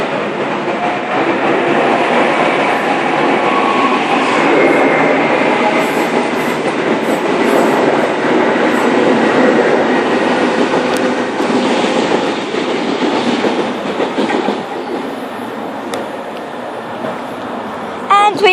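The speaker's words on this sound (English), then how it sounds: "We have a Oscar passing platform number 4." An Oscar electric passenger train rolls past platform 4 at Tempe station in Sydney, a loud, sustained rumble with clickety-clack wheel noise and faint squeals, with a voice talking over it.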